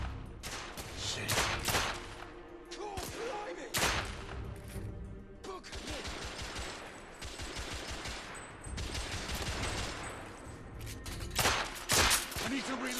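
Heavy gunfire in The Order: 1886 bursts out in repeated volleys and rapid automatic strings over about thirteen seconds, loud and close throughout.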